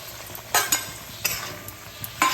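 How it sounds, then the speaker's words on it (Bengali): Fried mourala fish being stirred into a boiling curry, with soft bubbling and sizzling underneath and a few sharp scraping clinks of a spoon against the pan. No one speaks. "ঝোলটা ফুটে গেছে, এবার ভেজে রাখা মাছগুলো এর মধ্যে দিয়ে দিচ্ছি।"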